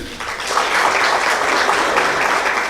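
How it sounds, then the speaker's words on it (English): Audience applause at a corporate social responsibility event, steady dense clapping from a crowd that rises after a brief start and holds at full strength throughout. "Another round of applause."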